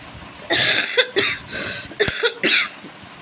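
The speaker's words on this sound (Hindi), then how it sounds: "जब से मैनपुरी से आए तब से खांसी तो बंद होने का नाम ही नहीं ले रही है" Several harsh coughs in a row, close and loud, with brief pauses between the bursts.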